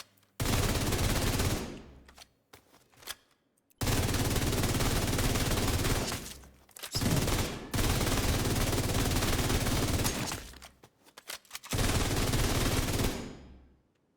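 Sustained automatic gunfire from a FAMAS rifle in a video game comes in four long, loud bursts separated by brief pauses, dense and continuous, with no speech.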